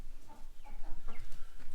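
Rhode Island Red chickens cluck in a short burst of several low, uneven calls close by in an apple orchard.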